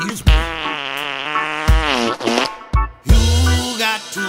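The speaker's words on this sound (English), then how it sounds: "It's gonna be a gassy fart, a really gassy fart." Fart sound effects set inside a reggae song, blown as long buzzy notes with wavering pitch that repeat over a steady beat and bass, loud and close.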